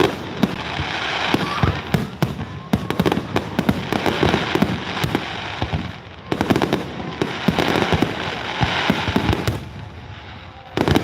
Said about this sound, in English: Enjoy the sights and sounds of explosions and colors.